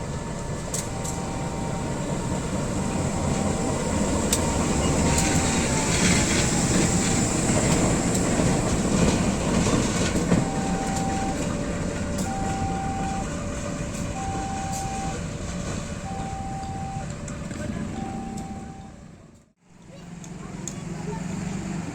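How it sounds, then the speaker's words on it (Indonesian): A locomotive moves at Cicalengka railway station, a loud continuous rumble and rolling of the engine and wheels that holds steady, then briefly drops to a near hush before resuming, with someone speaking over it. "sekarang lokomotifnya sudah boleh bergerak kembali kawan"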